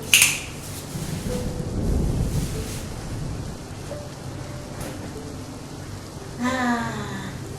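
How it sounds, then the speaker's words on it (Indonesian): Steady rain pours down in a continuous broadband hiss, with a few louder swells and brief higher rushes as the downpour builds, and no voices. "tapi kok hujannya makin kenceng ya, makin deras"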